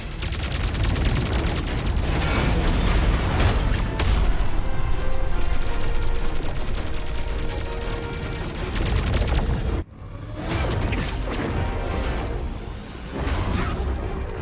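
Hover cannons fire in a Wuthering Waves battle: dense, loud bursts of gunfire, whooshes and booms roll on without pause, break sharply near the end, then resume in heavy volleys.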